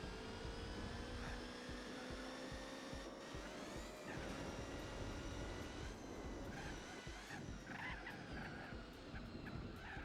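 Racing-game engine of the original Corvette Z06 GT1, a steady loud harmonic whine climbing in pitch with gear-shift drops, sustained throughout over a rough background roar.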